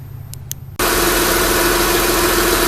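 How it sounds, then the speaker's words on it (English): A Chrysler Sebring engine cranks and catches at once, then settles into a loud, steady idle with a constant low hum that continues to the end; a couple of faint clicks come just before it starts. "I'm going to go ahead and start it up now."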